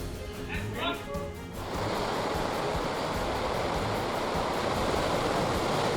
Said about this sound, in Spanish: Olas brutales en Plawangan.